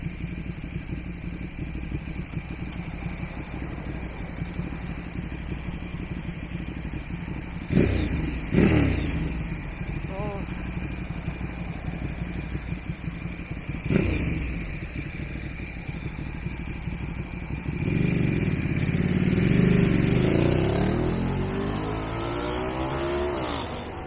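Sunday street traffic in Halifax heard from the sidewalk, a steady hum of engines with several cars and motorcycles swishing past nearby, one louder vehicle accelerating near the end, no voices.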